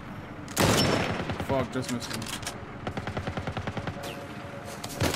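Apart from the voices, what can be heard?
gunfire in The Last of Us Part 1 video game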